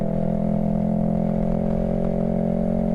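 A Yamaha R3 motorcycle ridden on the road, a steady buzzing engine drone held at a constant pitch, close and loud, with no talking.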